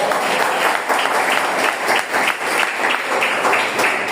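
Church congregation applauding in steady, dense clapping throughout, loud and close with rhythmic pulses, no speech over it.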